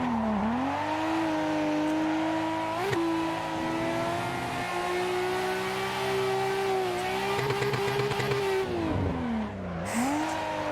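A Nissan Skyline, Noriyaro's 'Beercan' drift car, is driven in a VR racing game, its engine droning and revving through gear changes with tire squeal as it slides, loud and continuous for the whole stretch.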